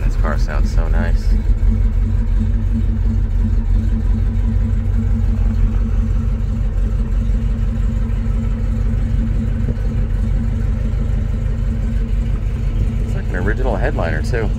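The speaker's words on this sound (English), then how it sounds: "Man, this car sounds so nice." A 1966 Chevrolet El Camino with its original 396 V8 idles with a steady, deep, loud rumble, heard from nearby while someone talks over it.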